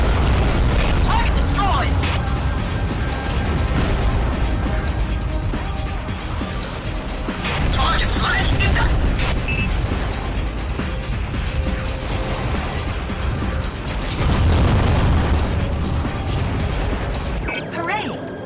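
Underwater ship weapons fire continuously in the AquaNox video game, a dense stream of crashes, booms and bursting impacts with mechanical clatter, loud and sustained throughout, with voices talking over the battle.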